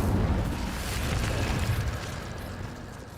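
Incendio fire spell cast in Hogwarts Legacy, a dense, roaring burst of flame that holds steady for a few seconds and then slowly fades, with no talk over it.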